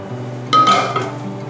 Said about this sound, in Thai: แล้วก็ลงมือโขลกน้ำพริกกันเลยค่ะ